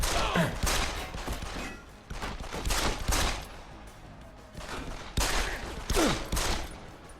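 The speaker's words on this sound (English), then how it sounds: "Fucking gunshots!" Rapid bursts of gunfire crack repeatedly in irregular clusters, loud and close, with game-like impacts and a steady background din, from the video game Deus Ex: Human Revolution.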